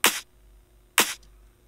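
Two short, bright electronic clap hits in a dance track production, sharp attacks spaced about a second apart with quick decays over a faint low bass hum, no voices.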